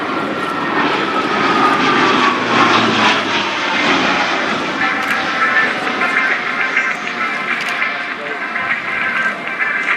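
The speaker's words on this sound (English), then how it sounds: "the Spartan flies over the display line again from left for a second turn-on" A C-27J Spartan twin-turboprop transport roars loudly over the display line at the Royal International Air Tattoo, RAF Fairford, a sustained engine drone with a slowly falling pitch as it passes.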